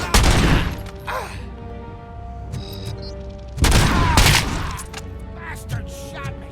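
Gunfire in RoboCop: Rogue City, a game shootout: loud bursts of shots and impacts at the start and again midway, with shouting voices and rumbling echoes in between.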